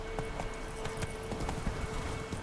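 Hoofbeats of a horse galloping in The Witcher 3, a steady rapid clip-clop rhythm pounding close and loud over a constant ambient game drone, with no talking.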